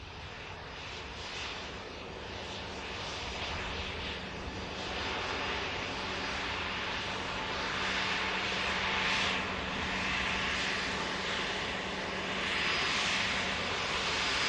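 Aircraft departing Manchester Airport, a sustained, swelling engine roar that grows slightly louder over its length, heard from a distance without voices.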